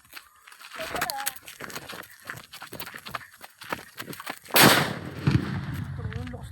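Fireworks being test-fired outdoors, several sharp bangs and crackles with a loud blast near the end, under excited talking.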